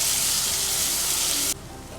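Chopped tomato hits hot oil in a pan for chicken biryani, giving a loud, dense sizzle that cuts off abruptly to a quieter hiss.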